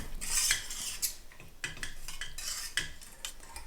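Chocolate and butter being stirred in a pot on the stove: close, quiet scraping and clinking of a spoon against metal in irregular strokes, with no one talking.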